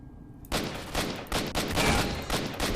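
Rifle shots fired one at a time in single-shot mode in the game STALKER: Shadow of Chernobyl, in the Agroprom underground: a run of loud, close, roughly evenly spaced bangs.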